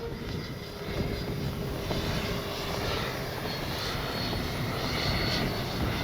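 An FMS 70mm F-18 V2 RC jet flies in to land with gear down, its electric ducted fan giving a steady, continuous roar at moderate distance, broad and unbroken throughout.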